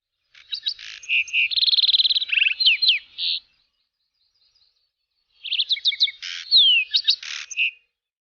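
Close, clear birdsong with two bursts of rapid chirps, trills and whistled notes, separated by a short silent gap, with no talking.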